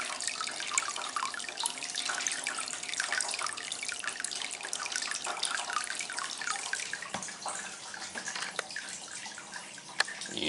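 A pump pours water into a paint bucket, a continuous close splashing and gurgling rush that holds steady for the whole stretch, with a few sharper drips near the end.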